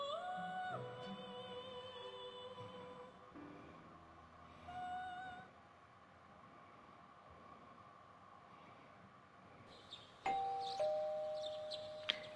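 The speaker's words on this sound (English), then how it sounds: "You hear the doorbell ringing." A doorbell chimes inside the video game Marvel Rivals, its ding-dong tones ringing in a few clear bursts over a soft background of game ambience, with a brighter chime near the end.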